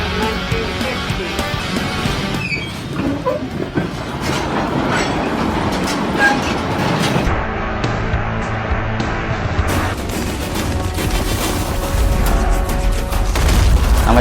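A mine tour train rumbles steadily along rails in a copper mine, with clattering wheels and metallic squeals, loud and continuous throughout, no voices.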